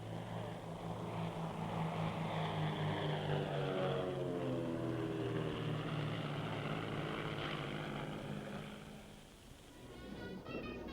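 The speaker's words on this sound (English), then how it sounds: "The Trilander, latest model from the successful Islander range, has strength and maneuverability." A Britten-Norman Trislander, a small three-engined passenger airliner, flies past at the 1976 Farnborough air show with a droning propeller roar. The roar swells and holds steady, then its pitch falls away as it passes.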